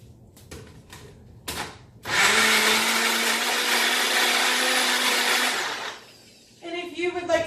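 A blender whirs loudly for about four seconds as it blends a ginger and turmeric smoothie, with a steady high motor roar. Brief knocks and clatter come before it, and a voice is heard after it stops.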